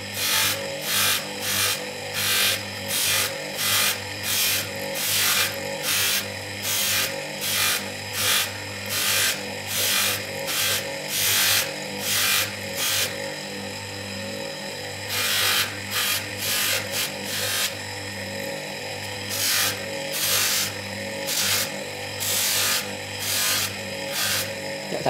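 A copper and brass ring being polished on its outer side with polishing compound, a steady rhythmic rubbing and grinding repeating in quick strokes, close and fairly loud, pausing briefly midway before resuming.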